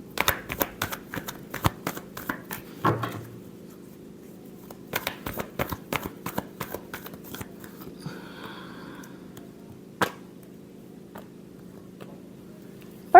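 Tarot cards are shuffled by hand in quick riffling bursts, sharp papery flutters repeating in clusters with short pauses between, close and clear with no voice.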